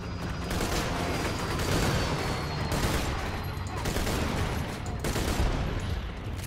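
Dense, continuous gunfire from Borderlands 2 fills the whole stretch, rapid overlapping shots at steady loudness, with shouted voices mixed in over the barrage.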